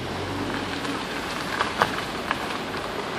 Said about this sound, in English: It's like it's starting to rain again too.